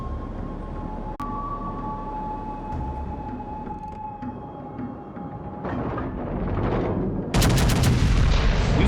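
Ship guns fire in a naval video game, with a sharp crack early on and then a heavy rumbling barrage. Layered booming blasts swell louder near the end over a steady tonal drone.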